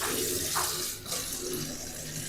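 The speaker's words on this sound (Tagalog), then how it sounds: "Hugasan natin na maayos yung ating kangkong." Running tap water pours steadily and close up while kangkong (water spinach) is rinsed beneath it, a continuous splashing hiss with small shifts as the leaves move under the stream.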